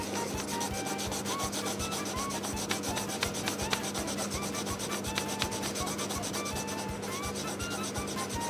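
Sanding a small Zipperhex part by hand, a close, steady rasping rub with rapid back-and-forth strokes throughout, no voices.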